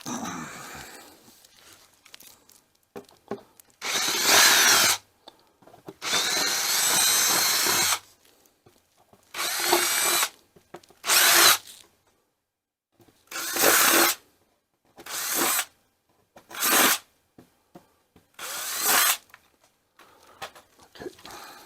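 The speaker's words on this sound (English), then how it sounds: "so let's get the drill." A cordless power drill works on a control panel, whirring in a series of bursts of a second or two each, some longer runs and some short blips, close and fairly loud with quiet gaps between.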